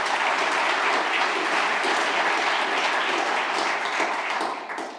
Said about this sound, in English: So give a round of applause to Marta.